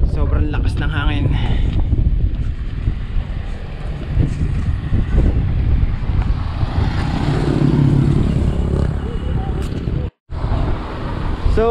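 Strong wind roars across the microphone during a bike tour in Bungabon, Nueva Ecija, a loud, constant buffeting rumble with faint road traffic mixed in and a brief dropout near the end.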